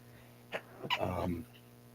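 A single sharp sneeze bursts out close by, with a short breathy intake just before it.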